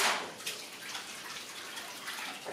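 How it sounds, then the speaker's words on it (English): Running water splashes steadily from a kitchen tap while hands sticky from French toast batter are rinsed beneath it, a close, continuous hiss with soft shifting spatters. "Rinse off my French toast hands"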